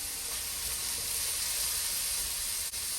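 Sweet pepper sautéing in a pot for a vegetable stew, a steady close hiss and sizzle that holds evenly throughout with no talk.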